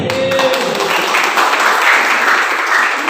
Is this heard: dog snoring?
no